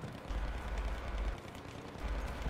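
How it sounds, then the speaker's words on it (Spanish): Battlefield 1 battle noise: dense, rumbling distant gunfire and blasts roll on continuously in a low, muffled wash, with no voices over it. "Suena disparos por aquí, yo creo."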